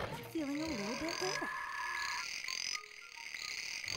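Frog croaks in the PS1 video game Casper: Friends Around the World, a warbling croak followed by higher chirping calls and tonal game sounds, moderately loud with no talk over them.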